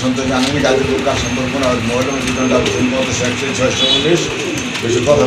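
Domestic and imported pigeons at a market sale coo repeatedly in low, throaty bursts amid general crowd noise, with people talking nearby.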